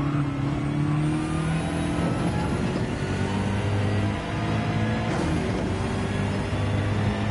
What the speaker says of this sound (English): See Pumpkin Patch looking after his by upshifting before going on the throttle to take less strain on the tyres